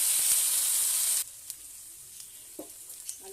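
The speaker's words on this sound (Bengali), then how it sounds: "আলুটা একটু ভাজা ভাজা হয়ে গেছে" Small diced potatoes frying in a kadai with dried red chillies, bay leaves and radhuni seeds, a loud steady sizzle for the first second that then drops to faint crackles and a few soft stirring clinks.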